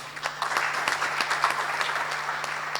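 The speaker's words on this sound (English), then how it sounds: "Clap for her, please." A conference audience at a youth convocation claps, a short burst of moderately loud applause with scattered distinct hand claps.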